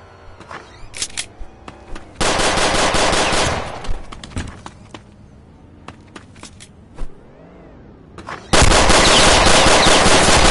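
Bursts of automatic gunfire in the Roblox game South Bronx: a few short clusters of shots early, then two long sustained bursts, loud and close, with quieter gaps between them.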